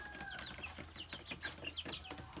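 Several chickens cluck nearby in quick, irregular bursts, overlapping one another against a quiet background.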